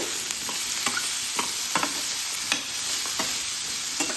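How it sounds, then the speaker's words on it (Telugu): Beetroot pieces cooking in oil, with a constant close sizzle and a spoon scraping and tapping the pan in occasional stirs, without any talking. "బీట్రూట్ ముక్కలు కూడా ఒక ఐదు నిమిషాలు మంచిగా ఆయిల్లో మగ్గనివ్వాలి"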